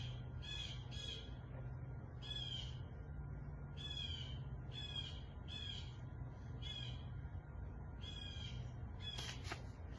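A crow caws over and over in short, harsh bursts of two or three calls, spaced steadily against a quiet, low background hum.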